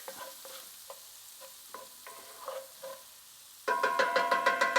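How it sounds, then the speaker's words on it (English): Shallots stirred and sautéed in a pan, soft scraping strokes at a steady pace, then a loud, close sizzle bursts in and keeps crackling. "we want to continuously move these shallots around so they don't burn"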